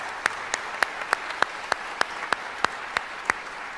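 Sparse, evenly spaced claps at a jazz band event honoring staff and students, sharp individual hits about three per second over a quiet hiss rather than a full crowd roar.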